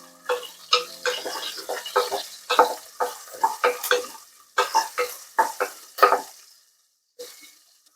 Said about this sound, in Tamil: இப்போ இதை கொஞ்சம் நல்லா வதக்கிக்கலாம்.